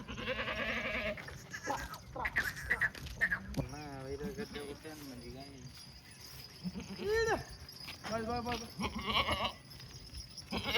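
Red Kathiawadi goats bleat in wavering cries at a livestock market, several calls scattered near and far while people talk loudly throughout.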